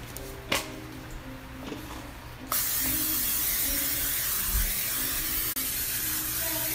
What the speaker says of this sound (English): So I'm just going to spray it with some non-stick spray